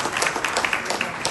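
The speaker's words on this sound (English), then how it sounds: "Good round of applause, Sarah." Applause from a gathered crowd at a community reception in Hounslow: a brief, dense burst of many hands clapping at once, fairly close and loud.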